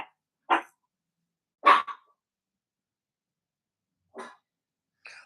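A dog gives a few short, separate barks with long silent gaps between them, close and fairly clear, with no talking.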